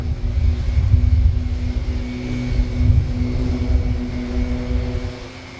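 Extra aerobatic aircraft of the Blades team perform a flying display at RIAT air show; a steady, sustained propeller-engine drone with a tonal hum, swelling and easing slightly as the planes manoeuvre, no talk over it.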